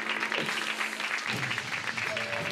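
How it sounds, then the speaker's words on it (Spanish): A studio audience at a Spanish YouTuber show applauds briefly, a busy burst of clapping that swells after a moment, mixed with some voices and background noise. "Un aplauso, muy bien."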